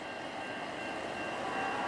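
CN freight train Q117, led by locomotive 8948 with an ET44AC as distributed power, passes at Ladysmith, a steady dense rolling roar of wheels and cars, loud and continuous with no talking.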